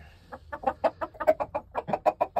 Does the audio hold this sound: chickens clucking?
yes